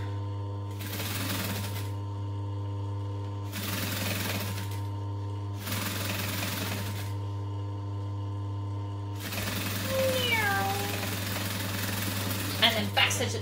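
A home sewing machine stitches down a zipper for a backpack, the foot running against the zipper teeth. It hums in several steady bursts of running stitches with brief pauses between them, and a speaking voice comes in near the end.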